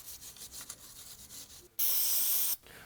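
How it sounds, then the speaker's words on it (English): A wire brush scrubs the grooves of an Audi A4 B9 rear brake caliper bracket in quick, raspy strokes, then a short, loud hissing burst of brake cleaner spray cuts in near the end. "we're going to take some brake clean and a wire brush and just clean up all these grooves"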